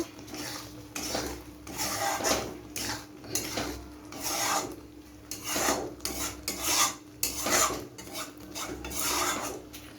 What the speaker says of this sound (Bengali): এবার এটার মধ্যে আমি একটু গরম মশলা দিয়ে দেবো নামানোর আগে একটু গরম মশলা দিয়ে নামাতে হবে ভালো করে নাড়িয়ে দেবো